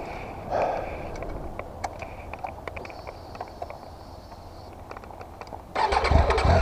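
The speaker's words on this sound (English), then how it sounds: "Oh, sounds nice, like the usual Triumph triple." A Triumph Tiger 800 XRx triple-engine motorcycle cranks and starts near the end, its engine catching with a loud rising burst after a quieter stretch of scattered clicks and faint background noise.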